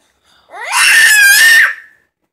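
A young child screeches in a single sustained high-pitched cry that rises and holds for about a second before tapering off, loud and close, with no talking over it.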